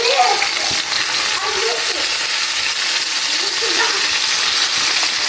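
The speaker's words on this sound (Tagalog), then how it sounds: "Prito ko na." Food fries in hot oil in a home kitchen, a loud, continuous sizzle with bursts of crackling, with a voice speaking over it at moments.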